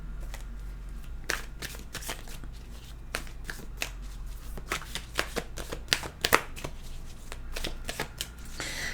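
Tarot cards shuffled by hand at close range, a steady run of crisp riffles and flicking snaps with no voices.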